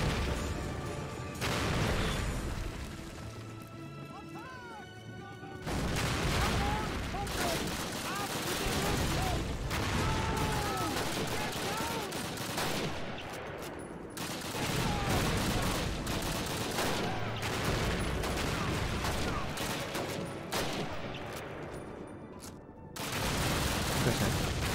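Sustained gunfire and explosions fill a Call of Duty battle, loud dense bursts of shots and booms going on almost nonstop with only brief lulls, and voices shouting beneath the noise.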